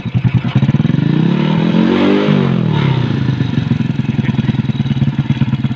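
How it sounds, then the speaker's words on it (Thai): A Honda Demon 125 motorcycle engine idles close by with an uneven, hunting rhythm, its revs rising and sagging over several seconds in a steady loud putter with no talking. "รอบเครื่องยนต์จะไม่นิ่งนะครับ"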